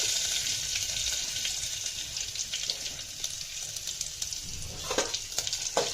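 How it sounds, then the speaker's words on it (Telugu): Ajwain (carom) seeds sizzle steadily in a couple of spoons of hot oil, a continuous bright crackle with a few sharper pops near the end, no voices. "ఆయిల్ వేడెక్కాక ముందు వాము వేసుకోవాలి"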